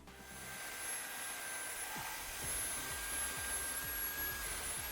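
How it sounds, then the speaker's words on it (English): A vacuum cleaner runs steadily, sucking dust from the seats of a Holden VZ Commodore ute, a continuous whining hum with a high tonal whine and occasional faint knocks of the nozzle against the upholstery. "I can just vacuum it up"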